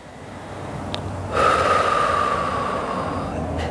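A person breathes in, then lets out a long, steady exhale while holding a flat-back stretch in a flexibility exercise session. The airy breath is close and fairly loud, with a thin whistling edge.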